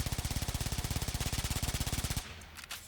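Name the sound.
Baza gun firing in the Warframe video game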